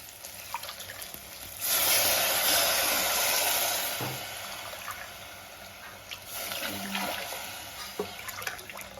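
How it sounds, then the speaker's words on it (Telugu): Water pours into a pot of rice and moong dal in a rushing stream for a couple of seconds, then tapers off, followed by a shorter second pour and a few clanks. "ఇప్పుడు 3 గ్లాసులు వాటర్ పోసుకున్నాం"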